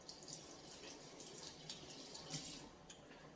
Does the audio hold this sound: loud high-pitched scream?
no